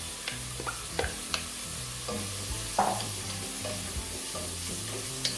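Salted codfish frying in a pan for Jamaican steamed callaloo and saltfish: a steady low sizzle runs throughout, broken by a few sharp clinks and scrapes of stirring, close and fairly quiet with no talking.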